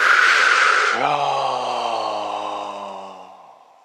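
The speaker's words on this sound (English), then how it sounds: "Exhale through the mouth." A single long, deep exhale through the mouth during a Kundalini yoga breathing exercise, close and breathy, with a voiced sigh that starts strong and fades out over about three seconds.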